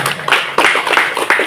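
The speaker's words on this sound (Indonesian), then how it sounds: "Tepuk tangan dulu untuk yang kelas 7 kemarin ya, semua naik di kelas 8." Applause at a school opening ceremony at MTs. Al-Hidayah Makassar, heard as a short run of sharp, rhythmic claps close by.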